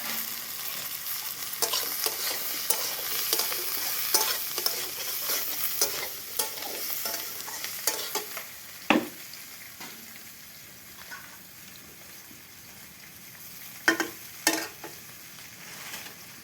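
Red potatoes fry in hot oil in a pan and get stirred, a continuous close sizzle broken by repeated scraping strokes and a few sharper knocks of the spatula.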